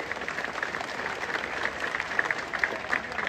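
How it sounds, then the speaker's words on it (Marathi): Audience at a stage event in Maharashtra clapping together, a dense, steady round of applause from a crowded hall with sharper individual claps popping out near the end. "ज्यांना दोन्ही हात आहेत त्यांनी टाळ्या वाजवायला काहीच हरकत नाही"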